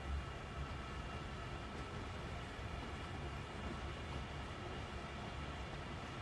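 A steady rumbling drone comes from a coal train crawling under a loader at Horseshoe Curve in Train Sim World 2, with a hiss of coal over the low rolling of the cars, even and continuous with no talk.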